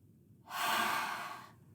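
A single slow breath drawn in through the nose during a breathing exercise, a soft airy inhale lasting about a second in an otherwise quiet room.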